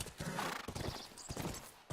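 Horse hooves clip-clop steadily in the video game The Last of Us, a continuous rhythmic trot under dense, faint ambient game noise.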